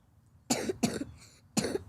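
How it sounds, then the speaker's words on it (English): Three sharp coughs burst out close by, two in quick succession and then a third after a short pause, against a quiet background. "What's with this cough, buddy?"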